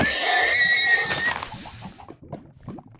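A loud Minecraft horse neigh rings out at the start, whinnying for about two seconds before fading into softer snorts and low rumbles.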